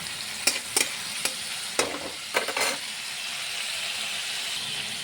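Ingredients for bean seed dal sautéing in a pan, a steady frying hiss with a few sharp scraping stirs near the start before the sizzle settles into an even, fairly loud background.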